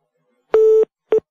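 A telephone busy-signal tone plays in a radio studio: one longer steady beep, then a short second beep, clean and alone with no talking.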